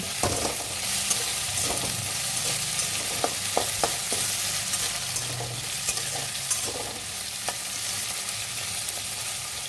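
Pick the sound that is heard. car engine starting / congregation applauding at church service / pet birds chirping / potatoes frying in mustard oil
potatoes frying in mustard oil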